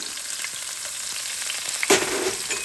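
Green chillies, curry leaves and mint frying in oil for popu kannam, a steady dense sizzle close to the pan with one brief louder hiss near the end.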